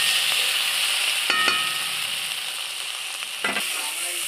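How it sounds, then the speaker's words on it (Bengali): Spices sautéing with a little turmeric in a pan for a spicy egg dish give a steady close sizzle, with brief stirring scrapes near the middle and again toward the end, and no voices. "এই যে অল্প পরিমাণ হলুদ দিয়ে দিচ্ছে, দিয়ে কষিয়ে নিচ্ছে।"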